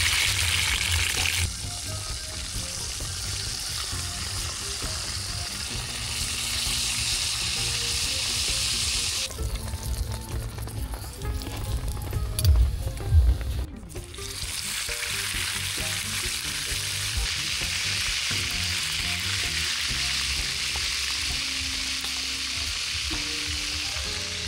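Food sizzles steadily in hot cooking oil during beachside moto camping in northern Cebu, a loud, continuous crackling fry with occasional stirring and shifts in intensity, close by and without talk.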